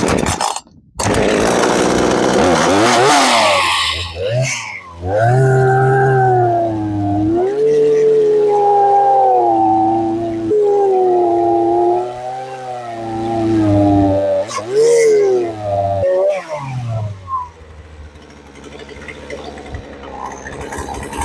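A chainsaw mills a wooden slab in Portland, its engine snarling loud and close with a steady cutting drone that rises and falls in pitch as the bar works through the wood, easing off near the end.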